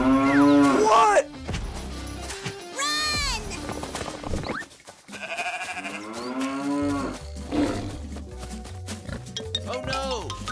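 Cartoon cows moo in drawn-out, pitch-sliding calls during a farm chase, with other animated farm animal and character voices mixed in, loud and close throughout.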